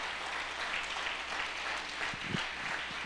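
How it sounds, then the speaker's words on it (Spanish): A church congregation applauds, a dense, even wash of many hands clapping at moderate distance, steady throughout with a few louder thumps near the end. "dale un aplauso a Dios"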